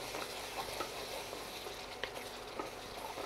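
A spoon stirs a yogurt spice mix quickly in a hot pan for Marwari lauki gatte curry. The scraping and soft sizzling are faint and steady, with light clicks, and no one speaks.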